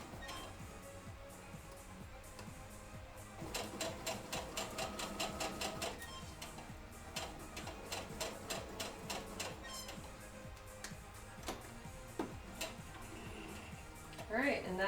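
A sewing machine runs down a seam in quick bursts of rapid, even needle clatter with short pauses between runs, close and moderately loud, with faint background noise.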